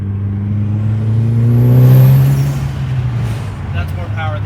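A tuned Mitsubishi Lancer Evo 9 with E85 cams revs up in one close, loud swell, the engine tone climbing and then falling back to idle, with some background rumble and a voice near the end.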